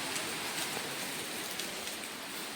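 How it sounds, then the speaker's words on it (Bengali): Steady rain falls with gusty, stormy wind during a rainy day at home, a dense continuous wash of drops with faint scattered ticks and no voices. "বৃষ্টির তো কমার নাম গন্ধ না, সঙ্গে ভালোই ঝোড়ো হাওয়াও দিচ্ছে।"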